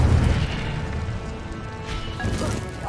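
In the game Hogwarts Legacy, an Incendio fire spell goes off with a loud, close whooshing burst and a rumbling low-end roar that flares and then sustains, alone without voices.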